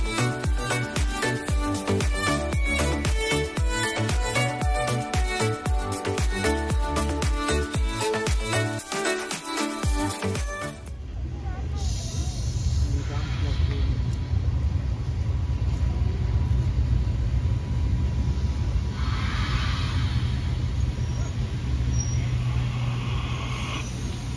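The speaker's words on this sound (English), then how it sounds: "Now we can take a look at the arrival of my train." A heritage train pulls into Wassertrüdingen station, opening with a long stretch of loud rhythmic rail clatter and musical tones before settling into a steady low rumble and creaking as it rolls in, with no talk.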